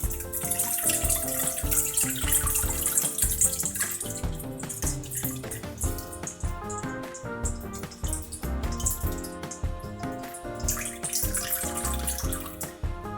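Warm water pours steadily into a mixer bowl for pizza dough, a continuous loud splashing rush with no talk.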